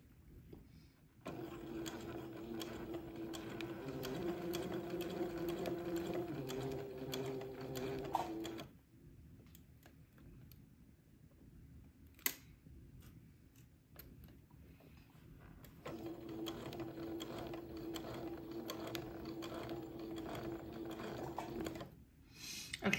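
A sewing machine runs steadily while stitching a neckband onto an old-fashioned baby garment, two long even whirring passes separated by a quiet pause with a single faint click between them.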